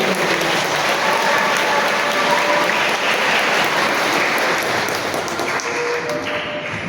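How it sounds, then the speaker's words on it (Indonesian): An indoor church congregation gives sustained applause during a children's Holy Innocents service, with loud, dense clapping holding steady for several seconds and easing slightly toward the end. "Boleh tepuk tangan bagi"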